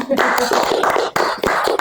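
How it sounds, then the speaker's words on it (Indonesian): A small group claps at a Kalpataru environmental award segment, a brief run of sharp, uneven hand claps close by, fading and restarting within two seconds. "Beri tepuk tangan dulu deh"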